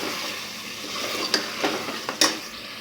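Beef for a beef and potato curry fries with a tablespoon of ginger, giving a constant sizzle broken by several sharp stirring scrapes and spoon knocks against the pot.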